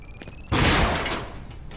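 An explosion in the first-person shooter Industria goes off right beside the player, a sudden loud broadband blast after a quiet moment, then a rumbling decay lasting about a second.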